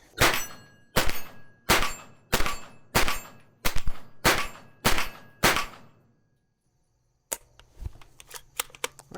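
An HK SP5 pistol firing 124 grain ammunition outdoors, eight sharp evenly spaced shots with ringing decay, a pause, then a burst of quicker fainter clicks and clanks.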